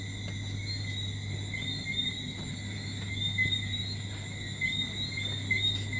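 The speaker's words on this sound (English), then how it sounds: "Crickets and tree frogs." Crickets and tree frogs call through the night outside a hotel in St Lucia, a steady layered chorus of high trilling chirps with a constant low hum beneath, continuous and moderately loud with no voices.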